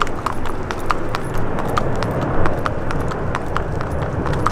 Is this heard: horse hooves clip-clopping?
yes